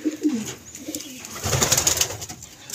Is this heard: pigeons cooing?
yes